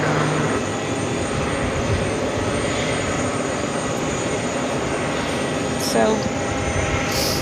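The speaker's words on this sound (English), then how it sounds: "Flight headed back to Seoul in this A380 Super, taking off runway 13 right." A Korean Air Airbus A380 bound for Seoul rolls for takeoff on runway 13 right at JFK, a loud, steady broadband jet roar filling the scene while a voice speaks briefly over it.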